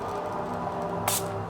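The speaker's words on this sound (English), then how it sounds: "This is citrus spray. It's citrus sage." A single short hiss of citrus sage room spray cuts in briefly, over a steady background of soft music.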